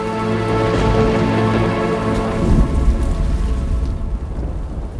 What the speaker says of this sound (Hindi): प्रतीत हो रहा है तीव्र वर्षा आने वाली है